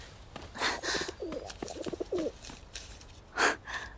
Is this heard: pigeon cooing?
yes